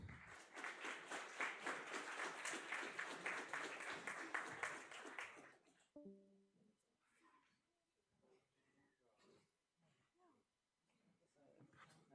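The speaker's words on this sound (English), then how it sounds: "Please, a big round of applause." Audience applause at a university game jam presentation, a loud dense burst of clapping for about six seconds that stops abruptly, followed by quiet room noise with faint movement and soft voices.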